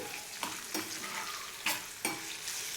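Steady crackling sizzle of spices frying in hot oil for a tempering for tamarind rice, with a few sharper bursts and stirring clatters breaking through, close and fairly loud.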